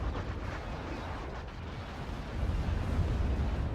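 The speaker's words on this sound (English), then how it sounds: "Barrage on another prison." Artillery barrage in the real-time strategy game Act of Aggression: continuous dense rumbling explosions layered over one another, a dull roaring wash of blasts that swells louder in the final second or so.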